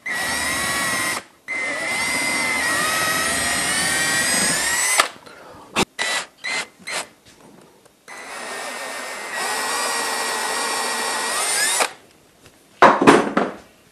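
A power drill bores holes in scrap wood for quarter-inch dowel pins, whining loudly in long sustained runs, interrupted by short bursts and gaps, then a final brief clatter.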